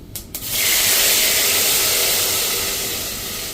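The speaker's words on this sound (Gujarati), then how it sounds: "અને આપણે દાળનો વઘાર કરી લઈશું." Dal tempering in a pan: a sudden loud, broad hissing sizzle bursts in after a brief clatter and holds steady, slowly easing off as the spices fry in the hot oil, with no talking.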